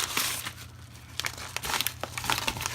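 A package being cut open during a box opening of mini drag bike parts, a blade slicing through the invoice and packaging: close, steady crinkling and tearing rustles with a few sharper crackles, quiet and continuous, no talk.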